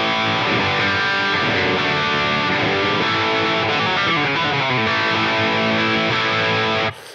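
Electric guitar played through a Line 6 Pod Go on a modded, more modern Marshall amp model with extra drive rings out loud, distorted chords and riffs for several seconds before stopping abruptly.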